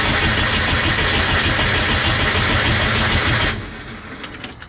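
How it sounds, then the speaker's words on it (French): A Subaru engine from a rebuilt 22B project running loud and steady with a rough rumbling idle for several seconds, then cutting off abruptly, leaving faint clicks and ticks in a quiet space. "Ça fait tellement du bien d'entendre ma Subaru encore faire les bruits qu'elle faisait avant"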